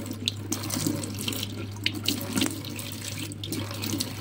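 Water runs steadily from a sink tap while someone rinses, a continuous splashing stream with small irregular splatters close by, no talk.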